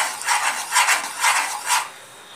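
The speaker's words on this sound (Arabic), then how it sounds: "هفضل اقلب فيه كتير جدا علشان ما يكلكعش معاكي" A spoon stirs custard in a pot, making four soft scraping sweeps in a steady rhythm, close and moderately loud, with no talk.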